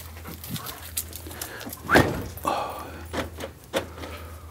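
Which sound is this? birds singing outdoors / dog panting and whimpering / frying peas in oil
dog panting and whimpering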